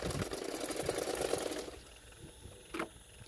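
A sewing machine stitches along the edge of a blouse lining fabric in a short burst lasting about a second and a half, then stops, leaving a quiet pause and a brief clack.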